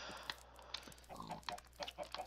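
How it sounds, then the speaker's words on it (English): Several video game chickens clucking and chattering close by in overlapping short calls, fairly quiet with a low steady background hum. "All these chickens."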